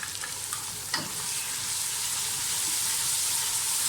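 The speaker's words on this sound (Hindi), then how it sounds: "अच्छी तरह से इन सब चीज़ों की भुनाई कर दें।" Chana pulao ingredients with yogurt fry in a pot, making a loud, steady hiss and sizzle that grows slightly stronger, with a single stirring scrape near the start.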